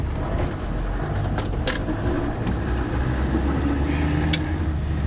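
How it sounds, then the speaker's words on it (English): An old Land Rover Defender drives along, its engine a steady, loud low rumble with road and cabin noise throughout, plus a few brief rattles and knocks from the loose body. "There's nothing quite like driving an old Defender."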